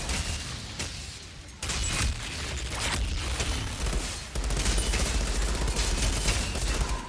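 Dense automatic gunfire rattles through a fight in the shooter game Outriders, with bursts and booms overlapping almost continuously at close range.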